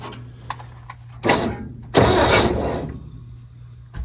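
A 1969 Chevrolet C30 truck engine cranks in two short bursts, the second longer and louder, over a low steady hum with a few small clicks between.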